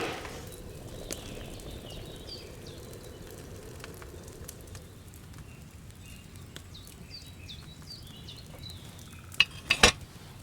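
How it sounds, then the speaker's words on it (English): Bubbling of a boiling potion cauldron over a flame in Kingdom Come Deliverance 2, a steady low churning simmer with faint clinks and stirring sounds, ending in a few sharp louder knocks. "Hear that bubbling? It's boiling."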